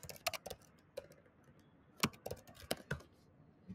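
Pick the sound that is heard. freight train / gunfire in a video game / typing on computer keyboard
typing on computer keyboard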